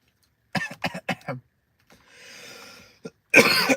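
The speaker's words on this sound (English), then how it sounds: "I am coughing" A few short, sharp coughs close to the microphone, followed by a breathy pause and one more harsh cough, with no talking.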